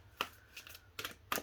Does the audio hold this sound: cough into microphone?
no